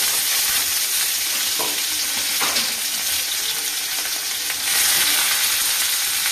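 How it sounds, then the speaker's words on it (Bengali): Chopped onion frying in hot oil, a steady loud sizzle with occasional scrape-like stirring bursts, continuous throughout with a brief dip near the end, no voices. "তেলটা গরম হয়ে গেছে, পেঁয়াজটা দিয়ে দিলাম"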